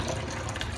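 Water runs from a tap into the dogs' bowls, a faint steady splashing stream with no voices over it.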